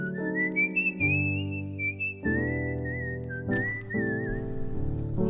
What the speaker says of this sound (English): How could you whistle that high?